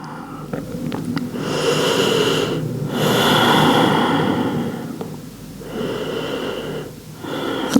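Deep slow yoga breaths held in child's pose, long loud airy exhales and inhales in a steady rhythm, close up with no talk.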